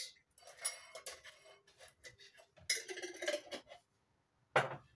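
A metal teaspoon is picked up among kitchen utensils while baking coconut half cakes, giving a series of light clinks and taps, close and quiet, with a sharper clink near the end.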